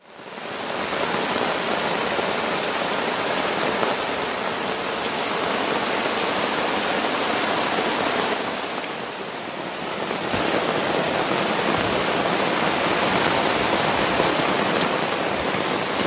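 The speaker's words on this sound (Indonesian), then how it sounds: "hujannya deras bro, anginnya kenceng, tendanya sampai banjir" Heavy rain and strong wind on a camping tent, a dense continuous roar of drumming drops and gusts, loud and close throughout with no talk.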